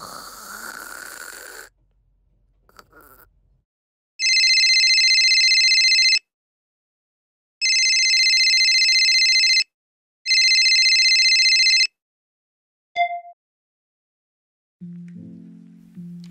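A telephone rings in three separate loud, electronic bursts, each about two seconds long with short silences between, followed by a faint click and a low tone near the end.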